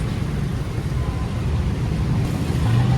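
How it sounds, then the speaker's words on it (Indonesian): A large express bus from the Sinabung line rumbles by at a busy traditional market in Pancur Batu, Medan, its low engine drone steady and close, swelling slightly at the end over constant street noise. "Ini ada bus cepat dari Sinabung, PT Sinabung"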